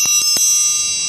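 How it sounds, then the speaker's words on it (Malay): A bright electric school bell rings continuously, loud and close, with a sustained metallic tone. "loceng dah berbunyi"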